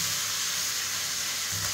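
Tomatoes frying in a pan while cooking Chettinad country chicken, giving a steady, close hiss and sizzle of oil throughout, with a slightly louder bubbling swell near the end and no voices.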